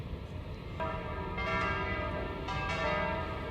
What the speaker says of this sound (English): His duty was to toll the bell.